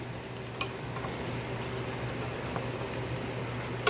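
Chicken curry with allspice seasoning simmering in a pan while it is stirred: a steady, soft bubbling sizzle with a few faint clinks of the spoon against the pan.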